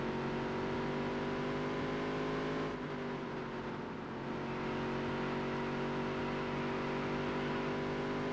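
A race car engine in the Dirt to Daytona racing game drones steadily at high revs with a close, constant whine, briefly easing as the throttle is feathered in traffic, then pulling back up.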